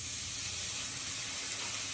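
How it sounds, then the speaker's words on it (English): Bacon sizzles in a hot skillet as it cooks before the potatoes, a steady, dense, close hiss that runs unbroken and fairly loud throughout, with no talk. "Okay, so we're gonna throw this bacon on"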